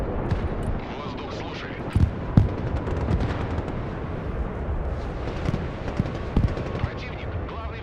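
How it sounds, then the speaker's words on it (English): Rapid automatic fire from a Tor air defense system in the video game Broken Arrow, a dense continuous barrage with sharper booms and bursts over constant battle noise. "Oh, the Tor is just going to keep firing."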